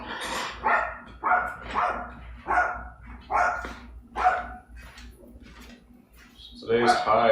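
A dog at home in Houston, Texas barks in a loud, close series of about seven short, evenly spaced woofs, with a louder burst at the end.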